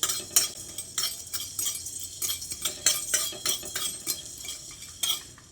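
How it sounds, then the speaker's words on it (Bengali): Whole garam masala spices are stirred in a pan over low to medium flame, with repeated scraping and clinking of a spoon against metal in an uneven rhythm over a faint sizzle. "এবার এই গোটা মশলাগুলো বেশ খানিকক্ষণ সময় ধরে একটু ভেজে নিচ্ছি"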